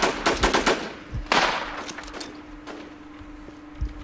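Gunfire in the video game Infestation: a few quick bursts of sharp shots up front, then scattered fainter, more distant single cracks, with no talking.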